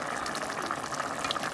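Water poured into a pot of simmering chicken and long beans cooked in tamarind broth, a steady gushing fill heard alone and close for the whole moment.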